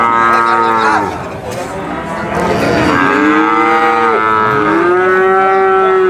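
Cattle at the Purwantoro cattle market give several loud, drawn-out moos close by, one after another, over a low crowd murmur with no clear speech.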